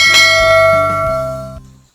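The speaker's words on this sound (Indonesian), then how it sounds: "jangan lupa untuk aktifkan lonceng notifikasinya" A notification bell chime rings out clearly, a bright struck tone with long shimmering overtones that sustains for over a second before cutting off, alone with no voices.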